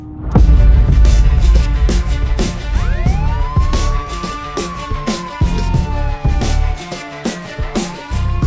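A police car siren wails in a cartoon, loud and close, its pitch rising and then sweeping slowly down over a busy backdrop of clattering hits and thumps.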